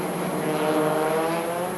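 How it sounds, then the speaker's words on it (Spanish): A Renault 21 touring car races around a Spanish circuit in a 1988 touring-car championship event, its engine a steady loud drone that holds a sustained tone throughout, with no voices over it. "Ahí está el R21 de Barreras"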